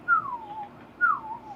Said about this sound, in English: Imagine Yoda whistling around in his 2-story